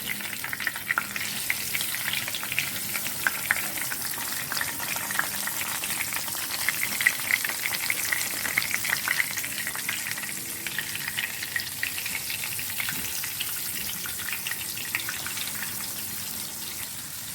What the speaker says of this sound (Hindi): अब मैं इसको शैलो फ्राई कर रही हूँ और इसको हम टर्न करेंगे।